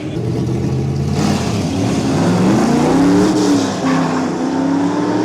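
A drag racing street car launches hard at Santa Pod with a little wheelspin, its engine roaring loudly and steadily as revs climb and shift, tyre noise mixed into the continuous close drone.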